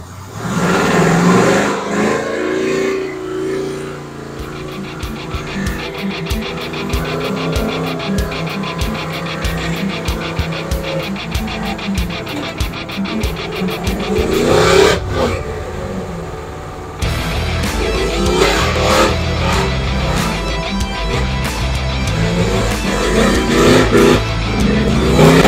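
A car doing a burnout in first gear on cheap tires: loud, sustained engine revving with continuous tire roar, surging and briefly dipping before it picks up again, close by.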